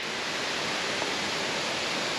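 Jiuliao Waterfall in Yilan, about 30 metres high, roaring as a dense, steady rush of falling water, loud and unbroken throughout with no voices.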